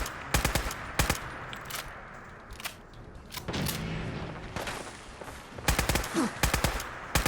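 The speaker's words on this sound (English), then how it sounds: "that big laser blast, that really sounds like our friend the Assaultron" Gunfire in Fallout 4, including the Assaultron's laser blast, comes as loud, sharp bursts of automatic shots with gaps between them and a denser volley at the end.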